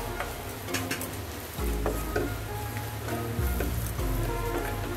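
Green chillies with chilli powder and turmeric sautéing in hot oil for a mustard fish curry: steady loud sizzling and crackling with occasional stirring scrapes, close and continuous, no talk.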